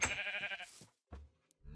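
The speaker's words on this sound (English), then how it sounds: "Right click on the sheep." A sheep bleats in Minecraft, a harmonic bleat in the first part followed by a quieter bleat after a short pause, with faint game sounds between.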